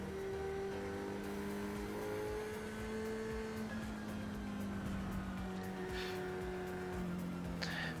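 An F3 race car in the iRacing sim on Circuit Zandvoort accelerates uphill through the gears. The engine note climbs steadily and dips briefly at each upshift, loud and continuous throughout.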